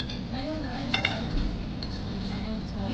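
Knife and fork scrape and clink against a plate while cutting soft, boneless meat at a table in Tablo Kitchen X Café, a Scout QC restaurant; the contact sounds are close and fairly busy, with a couple of sharper clinks near the middle.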